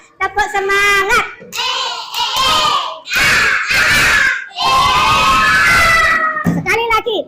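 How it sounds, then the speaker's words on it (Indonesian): A classroom of children chant loudly in unison in short shouted bursts, the voices mixed with rhythmic hand clapping and brief gaps between phrases. "Untuk menambah semangat kita dalam belajar, ayo melakukan tepuk semangat."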